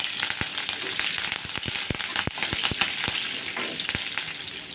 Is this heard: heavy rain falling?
no